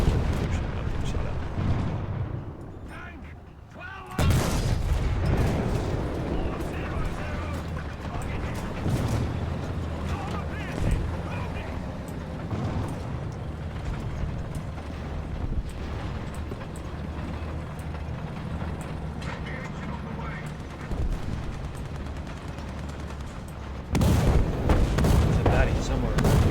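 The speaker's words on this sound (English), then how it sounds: "Oh shit, I'm getting shot at." Incoming gunfire and heavy explosions in the War Thunder combat video game form a loud, dense, continuous rumble with repeated booms, and someone speaks over the battle.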